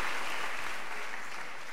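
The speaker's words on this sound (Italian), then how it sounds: "Allora Santo, applauso per te." Audience applause at a performance of the song Fenesta Vascia, a steady broadband clatter of clapping filling the short moment at moderate level.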